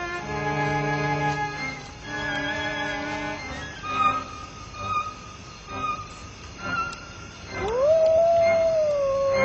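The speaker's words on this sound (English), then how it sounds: "They communicate with each other by howling." Wolves in Russia howl in long, overlapping drawn-out tones. A final rising howl swells louder near the end, with no talk.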